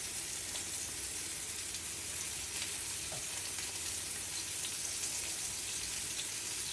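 Greek meatballs fry in a pan with a steady, even sizzle, a soft continuous crackle at moderate level with no talking.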